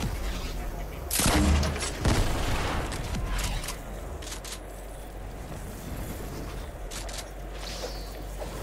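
Gunshots in the video game Fortnite: a couple of sharp loud bangs near the start, followed by quieter clicks and game noise under a steady background.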